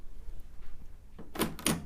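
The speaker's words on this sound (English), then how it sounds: "pull up on the hood, or the door as you might call it" The hood door of a 1982 Pioneer LD-1100 LaserDisc player is lifted open, a quiet plastic creak followed by two close, sharp clunks as the lid moves and settles.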